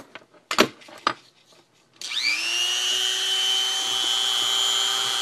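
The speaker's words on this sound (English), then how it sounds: "So I'm just gonna Dremel this the rest of the way off." A Dremel rotary tool spins up and runs steadily, whining as it cuts through a plastic part while building a Tesla gun, after a few handling knocks at the start; close and loud, no talk.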